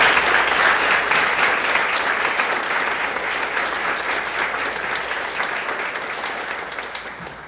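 Audience at an onboarding event gives a sustained round of dense applause, steady and fairly loud throughout, gradually tapering toward the end.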